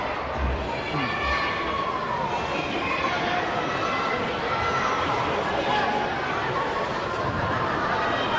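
Spectators at a women's football match between Lincoln Ladies and Arsenal Women murmur and stir in a steady, distant crowd wash, with a commentator talking over it throughout.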